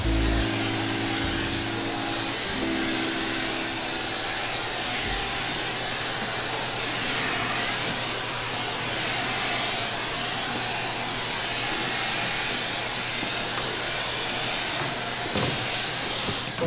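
A sprayer applies carpet pre-treatment in a bathroom of a family entertainment center, giving a loud, continuous hiss that holds steady with a faint low hum beneath it.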